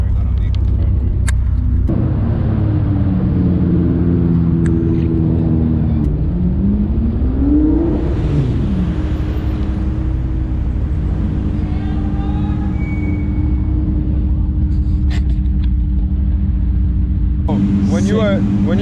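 A 900-horsepower Toyota Supra engine drones and rises in pitch as it accelerates at night toward Times Square, with loud rumbling exhaust throughout and people talking over it.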